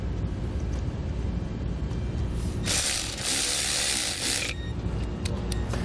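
A socket wrench with a 10mm socket ratchets steadily on a nut, tightening it onto a stud while a battery charge line kit goes into a 2018 vehicle; the fast clicking runs close and continuous for about two seconds.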